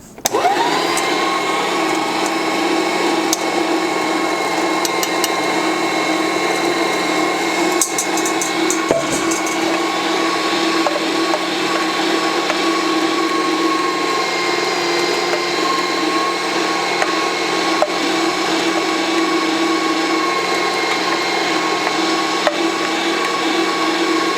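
A food grinder grinds diced potatoes for Swedish potato sausage, a loud, steady motor drone that holds unbroken for over twenty seconds with a few faint clicks.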